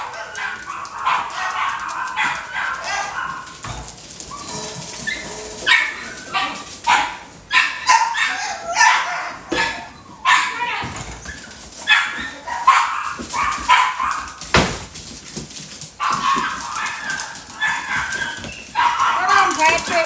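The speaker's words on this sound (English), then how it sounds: "One dog makes that much noise." A single dog barks loudly and repeatedly nearby, with rapid bursts of sharp barks, yips and a few whimpers continuing throughout, while a person speaks over the noise.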